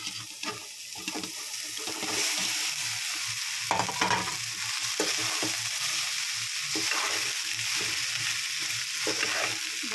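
Rice being stirred and mixed in a pan for coriander rice with salt added, giving a steady sizzling, scraping texture with soft clinks, close and continuous for the whole stretch, with no talk.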